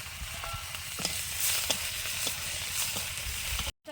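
Chopped onion frying in hot mustard oil seasoned with panch phoron and black cumin, a steady close sizzle with a few utensil scrapes, alone without talk.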